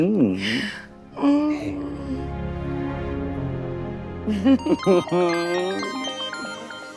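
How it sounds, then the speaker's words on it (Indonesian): A mobile phone plays a melodic ringtone, a tune of repeating tones, with people talking over and around it. "Oh, handphone kamu bunyi, mi amor."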